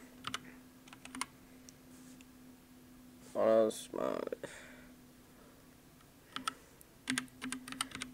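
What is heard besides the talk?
typing a search on a computer keyboard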